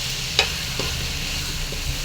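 Prawns fry with salt, turmeric and chili in a pan, giving a low steady sizzle with a few light scraping stirs and taps scattered through it.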